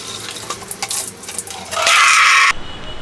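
Water splashes across a floor and rushes down a floor drain in a home in Vietnam, a short hissing gush after a few light knocks.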